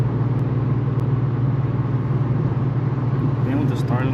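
Steady low engine drone and road rumble inside a moving tuned Infiniti Q50, a constant hum with faint chirps near the end.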